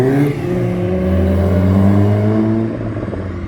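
A Porsche GT3 passes with a loud, smooth engine note, its tone rising and then easing off as it goes by, with no talk over it.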